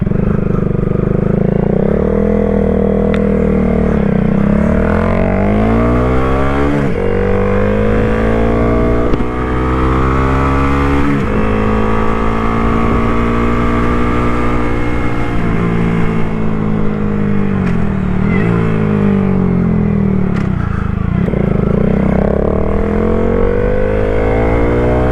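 A Honda Grom motorcycle being ridden and revved, its small engine droning loud and close, pitch climbing and falling through repeated gear changes and throttle swells with no break.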